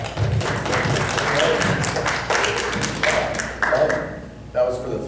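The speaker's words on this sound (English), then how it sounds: "You guys want to applaud him, don't you?" A conference audience at a travel-industry event breaks into applause for a speaker, with uneven clapping and thumps, a little voice mixed in, before it thins out near the end.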